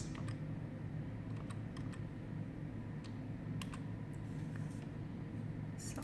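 Light, scattered key clicks from typing on a computer keyboard, faint and irregular over a soft room hiss, with no one speaking.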